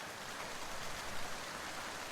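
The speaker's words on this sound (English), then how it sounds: "The rain's getting stronger." Rain in the Fantasy Maiden Wars game, growing heavier, heard as a steady soft wash of falling drops with no talking.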